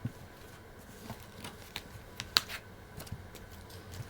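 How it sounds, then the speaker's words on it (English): Quiet, irregular papery riffles and taps of cards being shuffled, with one sharper snap midway, close and alone. "Well, I'm shuffling."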